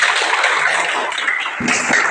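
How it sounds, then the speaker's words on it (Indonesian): A classroom of students clapping hands together as applause during an English lesson, a dense steady patter of many hands, fairly loud and continuous for about two seconds. "Tepuk tangan dulu."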